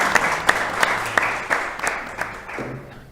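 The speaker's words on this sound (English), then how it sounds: "I'd like you to give her a round of applause for her bravery." An audience at a cancer panel discussion applauds, the hall filled with dense clapping and a rhythm of sharper, closer claps standing out over it, tapering off toward the end.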